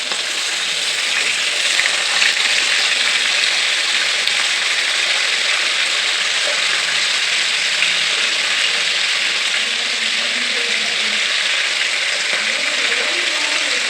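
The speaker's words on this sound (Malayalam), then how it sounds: "നമുക്കിത് ഫ്രൈ ചെയ്ത് 2 വശവും മാറി മാറി ഫ്രൈ ചെയ്ത് നമുക്ക് എടുക്കാം." Chicken pieces frying in hot oil for fry chicken biryani give a steady, loud, close sizzle and crackle throughout, with no talk over it.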